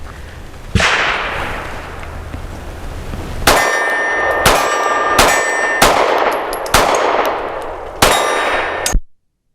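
Mossberg MC2sc subcompact handgun fired at an outdoor range: one early sharp crack, then a quick string of five loud, ringing shots with brief echo tails, close and alone.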